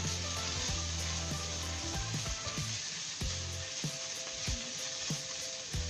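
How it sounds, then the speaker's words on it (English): Kale, pork and mushrooms toast in oil in a pan with a steady, close sizzle that runs unbroken throughout, partly under tonal music. "can toast a little bit in some of that oil that the kale has released"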